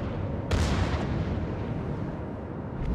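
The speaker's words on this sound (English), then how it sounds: "All stations, concentrate fire on the target." Battleship Alabama's naval guns firing in the video game World of Warships, a heavy booming salvo followed by a long rumbling roar and smaller distant blasts, loud and continuous.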